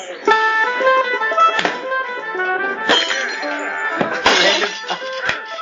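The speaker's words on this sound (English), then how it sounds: "they just dropped the glass" Glass drops and shatters as a sound effect in a tavern scene, with repeated sharp crashes and ringing clinks of breaking shards scattered across the clip, loud and close, with music-like tones underneath.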